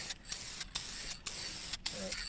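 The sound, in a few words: spraying finish onto a shotgun stock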